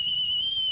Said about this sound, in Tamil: இந்த பாரு பொட்டச்சி சந்தோஷத்துல விசில் அடிக்கிறா